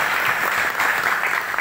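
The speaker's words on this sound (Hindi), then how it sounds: "तो ज़ोरदार तालियां आप सभी" A crowd claps loudly and steadily at a real estate project event for a sandalwood development, with brief dense applause and no voices over it.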